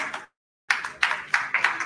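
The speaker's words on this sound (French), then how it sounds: "Je pense qu'on peut les applaudir" An audience at a book launch event applauds in several bursts of clapping after a short silence, fairly close and loud, with no talking.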